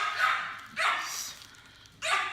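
A pet dog barks three times indoors, loud and close, with short uneven gaps between barks and no talking over them.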